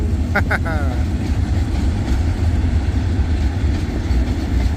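The GK 4015 locomotive hauls a train past with a loud, continuous rumble that holds steady throughout, and a short tonal horn-like sound rises briefly near the start.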